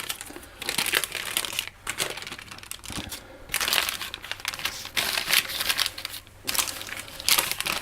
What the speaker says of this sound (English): and peel back the paper.